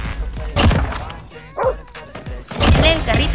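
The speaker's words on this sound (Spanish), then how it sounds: "voy a llamar a mis perros" Attack dogs in Call of Duty Mobile bark and yip in short bursts amid gunfire and thumps, with game sounds and talk mixed in.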